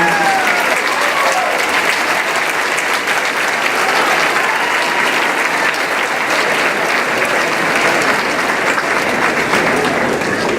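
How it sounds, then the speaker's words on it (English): A large graduation crowd at a high school commencement claps loudly and continuously for the parents, a thick, even wash of applause with no letup. "Braves, let's turn and give them a round of applause and love and appreciation to our parents."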